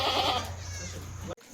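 Goats bleat close by at a farm sale, one loud drawn-out call at the start fading into a busy background murmur before cutting off.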